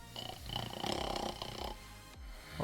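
A voice imitates loud, rasping snoring in a tabletop Icewind Dale game session, one drawn-out throaty snore swelling louder before breaking off into a short snort.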